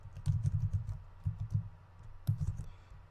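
Code is typed on a computer keyboard in quick bursts of soft, close clicks, a rapid run, a short pause, then another flurry of keystrokes.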